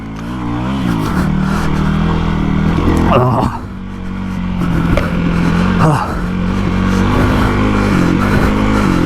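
A Hero XPulse 230 motorcycle with a big-bore build accelerates in first gear, its engine revving steadily and loudly with a brief dip before pulling again, while a rider talks over it.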